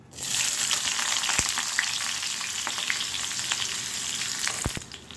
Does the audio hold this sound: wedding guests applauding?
no